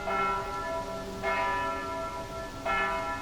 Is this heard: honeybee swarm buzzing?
no